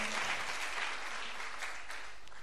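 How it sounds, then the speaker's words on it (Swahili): An audience applauds after a reading at a French and Swahili service: steady, dense clapping, moderately loud and continuous, with no voices over it. "Est-ce que nous pouvons acclamer très fort cette lecture?"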